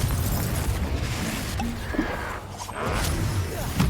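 A Confringo blasting spell explodes in the Hogwarts Legacy video game, a dense, loud burst with a rumbling, crackling roar that fills the whole moment.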